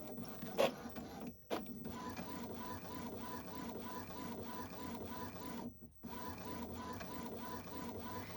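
An Epson ET-2803 printer converted for sublimation runs a maintenance cycle, giving a steady mechanical whir and hum with a few clicks and two brief pauses, close and continuous with no talk.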